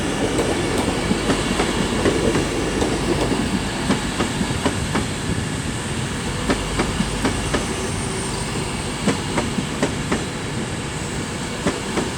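A Class 390 passenger train arrives at Crewe station, its wheels clacking rhythmically over rail joints in a steady, loud rumble with intermittent sharp clicks and faint squeals, and no voices.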